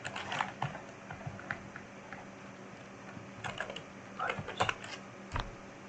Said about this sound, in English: I will type the text for the text options